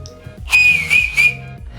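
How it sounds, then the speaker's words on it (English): A loud, shrill whistle made with fingers in the mouth, blown close up in three quick bursts, the last two shorter, with a faint hum behind and no talking. "I can whistle with my fingers, and I'm gonna attempt to do it for you now."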